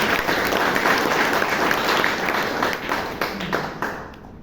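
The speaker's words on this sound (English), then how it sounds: "please, let's give the speaker, Vidya and Hannah, a huge round of applause" A room of people at a Toastmasters meeting gives a long round of applause for two speakers, dense steady clapping from the start that slowly thins toward the end, with no talk over it.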